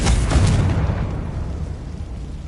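Confringo spell explosion in the Hogwarts Legacy video game: a single loud booming blast that decays into a long rumbling tail, with no voices.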